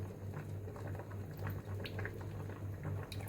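Tamarind water added to a pot of boiling hostel-style sambar with okra, heard as a continuous bubbling simmer with a low steady hum beneath and scattered soft pops.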